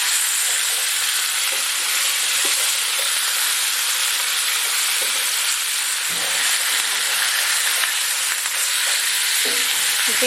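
Brick chicken with garlic sizzles loudly and steadily in a hot pan, a bright, constant frying hiss with a few soft scrapes and shifts as the pieces are turned over with tongs.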